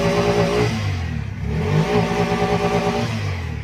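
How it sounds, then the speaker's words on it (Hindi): A Bajaj tempo auto-rickshaw engine idles and is revved repeatedly up close, its rough mid-pitched clatter rising and falling in steady throttle surges with no talk. "गाड़ी चालू हो गई, रेस करता हूँ मैं"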